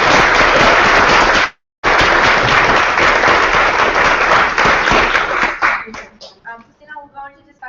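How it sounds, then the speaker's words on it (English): Loud, dense audience applause at a live public meeting, steady with a brief gap near the start, then thinning to scattered claps as it fades out. "Let's give a round of applause."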